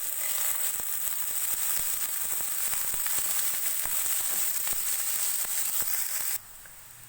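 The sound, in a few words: onions frying in hot oil in a pan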